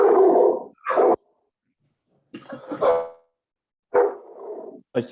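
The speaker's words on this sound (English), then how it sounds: "There's a dog outside." A dog barks in several loud bursts, with brief silent gaps between them, close to the listener.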